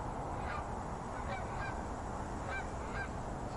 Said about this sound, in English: can you hear the geese?